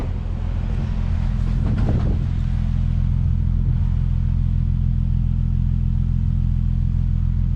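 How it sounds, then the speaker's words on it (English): A Nissan 370Z engine idles steadily after spark plug and valve cover gasket replacement, a constant low rumble with exhaust drone throughout and a brief louder swell around two seconds. "Make sure we don't hear it coming out the exhaust pipe"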